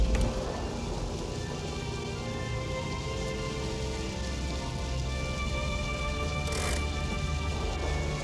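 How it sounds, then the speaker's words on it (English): Rain falls steadily around an open convertible car, a continuous close hiss of drops pattering on surfaces with no voices. "Mr. Haskell, it's starting to rain."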